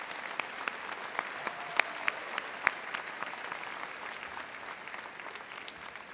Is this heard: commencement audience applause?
yes